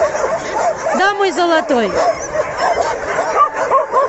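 An old abandoned dog barks and whimpers close by in short yips and whines while someone speaks softly over it.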